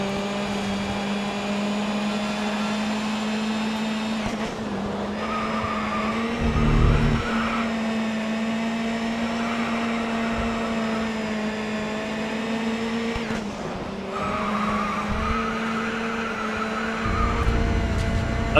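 Race car engine in the WTCC racing video game at Mont-Tremblant, holding a steady high-revving drone under full throttle for the whole stretch, with brief dips and rises and short rumbling bursts; loud and close, no voices.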